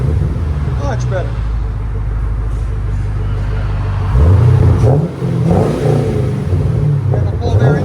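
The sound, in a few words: 2014 Chevy Camaro 2SS 6.2L revving, X pipe Magnaflow exhaust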